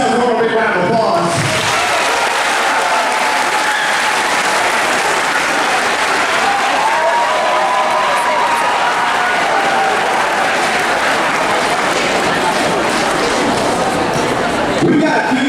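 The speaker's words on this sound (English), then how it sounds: "give yourselves a little big round of applause" Loud sustained applause and cheering from a crowd filling a gym at an activity day, dense clapping and voices echoing for about fifteen seconds, with talk mixed in at the start.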